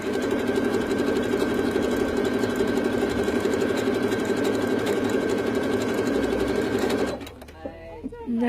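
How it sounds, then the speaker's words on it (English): A sewing machine runs decorative stitching at high speed, producing a fast, even, continuous whirring hum for about seven seconds, close and loud, before stopping abruptly into a few quieter clicks. "I'm going to do a few rows of decorative stitching. I'm going to crank up the speed a little bit as well."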